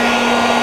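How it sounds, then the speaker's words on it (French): An old heat gun blows hot air in a steady, loud whirring hiss with a constant motor hum, up close and alone. "C'est qu'un décapeur thermique, c'est tout, hein."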